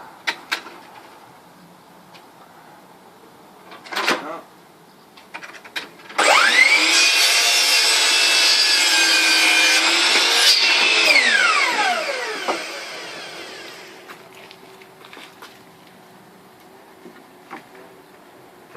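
A wooden piece for a garden gate is cut with a power saw: after a few knocks, a loud whining cut runs for about six seconds and then winds down, followed by quieter handling sounds.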